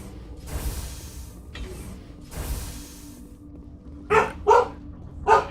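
A dog barks three times near the end, sharp and close, after some soft rustling and shuffling sounds.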